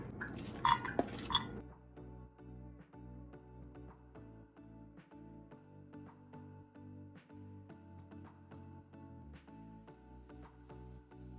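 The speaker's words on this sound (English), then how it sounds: "So you have to cut up pepper and celery, which I'm doing now" A knife chops pepper and celery on a cutting board in a home kitchen, making steady, soft, evenly spaced taps after a brief clatter at the start.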